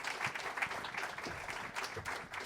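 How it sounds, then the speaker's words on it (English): Audience applause at a New York forum for an incoming co-chair: steady, moderately faint clapping from a seated crowd that runs throughout, with no talk over it. "So if we can have a round of applause for new agenda co-chair, Reverend DeGraff."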